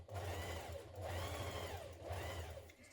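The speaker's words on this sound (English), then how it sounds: "then from the right side I'm just top stitching it, foot space away from the centre" A home sewing machine top stitches a pressed hood seam on a hoodie, running in three steady bursts with short pauses between, its motor whirring and needle clattering in a quiet room.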